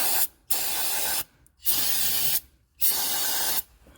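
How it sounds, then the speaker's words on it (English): Brake parts cleaner sprays in three long, loud hissing bursts onto the clutch shaft of a 1996 Geo Tracker, close up, with brief silent gaps between them. "we're gonna take some brake parts cleaner"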